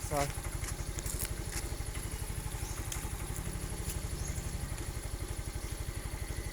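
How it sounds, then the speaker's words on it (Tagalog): Two motorcycles idle nearby in a home yard beside a gate, a steady close low-pitched engine rumble with rapid regular firing pulses throughout, while people talk over it. "Dalawang motor ang gamit namin."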